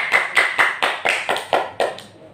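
Classroom applause for a student group, a quick run of about nine sharp, evenly spaced claps that sound like a small handful of people clapping together, close by and steady over a couple of seconds.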